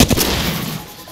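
Gunfire in the Apex Legends video game on the World's Edge map: a short, loud burst of a couple of close shots with a ringing tail, no voice heard.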